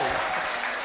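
A crowd at a Hindi poetry gathering in Hapur bursts into loud, dense applause, a brief steady wash of many hands clapping together.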